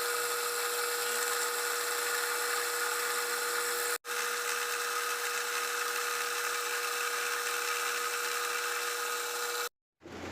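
An electric milling cutter machining a recess into metal, a steady high-pitched whine with grinding texture held near and loud for about ten seconds, with one brief dropout midway and a cutoff near the end.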